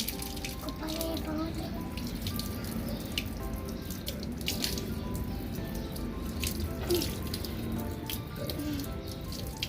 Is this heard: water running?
yes